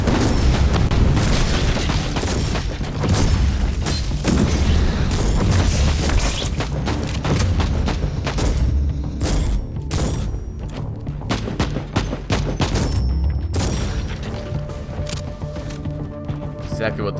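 A shotgun fires fletch rounds in Warhammer 40,000: Inquisitor Martyr, heavy booming blasts repeating rapidly through battle noise, with someone talking over the action.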